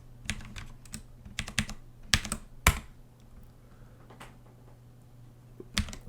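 Someone types a password on a computer keyboard in close, crisp bursts of key clicks, then pauses before a final couple of keystrokes.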